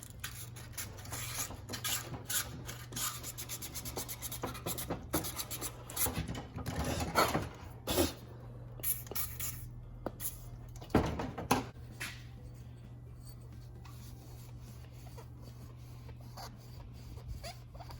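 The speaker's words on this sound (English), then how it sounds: "just want to kind of sand that bore out a little bit" Sanding tool rasps intermittently inside the bore of a sticky knockoff TiAL-style wastegate, coming in uneven scratchy bursts that grow louder mid-clip over a steady low hum, with no talking.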